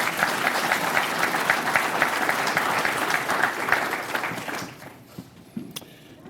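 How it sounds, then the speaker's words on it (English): Guests at a football hall of fame induction banquet applaud, a loud, dense burst of clapping that fades out over the last couple of seconds, leaving a few scattered claps. "Can y'all clap it up for them for a second?"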